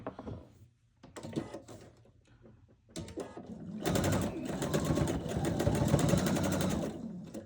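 A sewing machine stitches a quilt in short bursts, a few quick runs of needle clatter with pauses, then one longer steady run, close and fairly loud.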